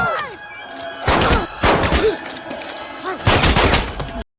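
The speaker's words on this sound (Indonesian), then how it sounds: "Di tengah rentetan tembakan dari para penyerang tak dikenal" Unknown attackers fire on a film scene in several sharp, loud bursts of gunfire spread over a few seconds, each one cracking out and then dying away.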